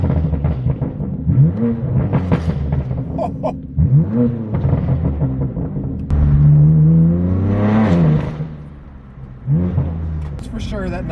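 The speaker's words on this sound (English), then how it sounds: "we'll get some revs going." A loud straight-piped BMW M4 (F82) engine revs repeatedly, each blip rising and falling in pitch with a raspy, echoing exhaust note.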